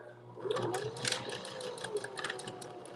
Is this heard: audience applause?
no